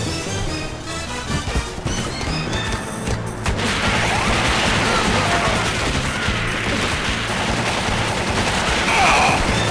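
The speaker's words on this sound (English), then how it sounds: "Heavy machine gun." Heavy machine gun fire from the Metal Slug game dubbed into Tooth & Tail, a dense, loud fusillade of rapid gunshots with crashes and impacts running continuously and growing fuller after the opening seconds.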